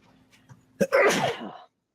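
A huge sneeze, a sharp intake followed by a loud explosive burst that trails off over a second, close and alone with faint talk beforehand, during a tabletop role-playing game session.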